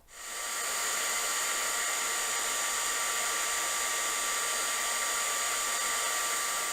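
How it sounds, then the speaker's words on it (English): A Wow heat tool melting embossing powder on a papercraft card, its fan blowing as a loud, steady, unbroken rush that starts quickly and holds close at constant strength throughout. "to melt my powder, I'm going to be using my Wow heat tool"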